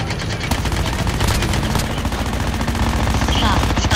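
Rapid automatic gunfire from Call of Duty Mobile battle royale, loud and continuous bursts filling the whole stretch with dense, rattling shots over a steady game soundscape.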